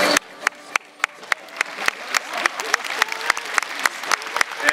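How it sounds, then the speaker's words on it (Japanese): Audience applause at the Japan Cup cycling team presentation, a hall full of steady clapping with sharp, regular loud claps standing out near the microphone, building slightly in intensity. "盛大なるご声援ありがとうございます。"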